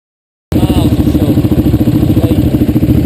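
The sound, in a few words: motorcycles starting and riding off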